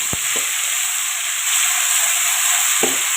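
Ginger garlic paste sizzles and hisses steadily in hot oil over a medium flame, with a couple of brief scraping stirs near the start and end.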